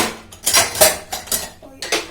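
Freshly washed steel dishes, pots and cups are set down one after another in a home kitchen, giving several sharp metallic clatters and clinks with short pauses between them.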